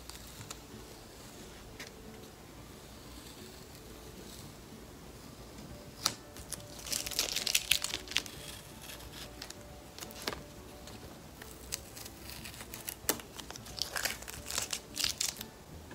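Masking being peeled off a watercolor resist painting, heard up close as soft crinkling and crackling that grows busier around the middle and near the end, with no talking.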